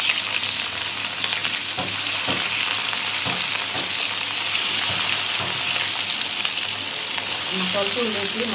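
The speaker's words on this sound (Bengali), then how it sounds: "দেখেন আমাদের মাছ ভাজা হয়ে গেছে" Rohu fish pieces fry in hot oil, giving a loud, continuous, close sizzle with scattered pops and a few stirring scrapes near the end.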